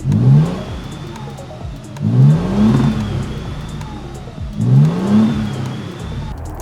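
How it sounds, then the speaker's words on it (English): A 2024 Toyota Tundra TRD Pro Hybrid with a twin-turbo engine and MagnaFlow exhaust revs up three times in a steady rhythm, each loud, close surge of rising engine tone followed by a faint turbo whine as it falls back to idle. "You could hear the turbos wind up and it sounds like you're driving a race car."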